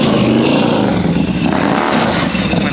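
Dodge Hellcat on 24-inch wheels revving loudly and close by, a dense continuous roar with the throttle surging and dipping through the short stretch.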